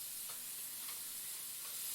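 A pot of water at a rolling boil for cooking orzo, giving a constant hissing, bubbling texture with a few faint clinks over it, close by and with no talking.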